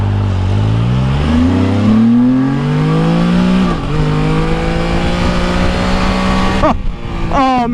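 A Can-Am Spyder F3 three-wheeler's engine revs loudly while riding, its pitch climbing and dropping through shifts, with a sharp rising burst near the end over steady wind noise.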